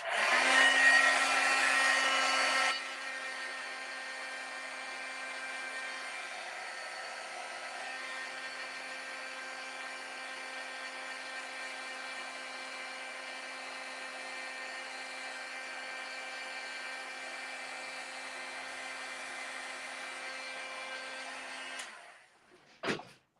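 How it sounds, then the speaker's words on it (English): A heat embossing tool blows hot air in a loud, steady whir while tags are made for a craft project. It runs unbroken for about twenty seconds, opens with a louder first burst, then cuts off at the end. "Okay, time for some noise. Heat embossing tool."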